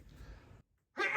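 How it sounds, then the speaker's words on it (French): One close, forceful human sneeze follows a short breathy intake and a brief silent pause. "Et je vais éternuer."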